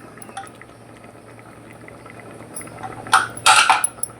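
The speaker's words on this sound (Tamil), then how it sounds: "தண்ணி ஊற்றிக்கிட்டேன்." Water is poured into a pot of moong dal sambar with potatoes: a soft simmering hiss, then two short, loud splashing bursts near the end, with no talk.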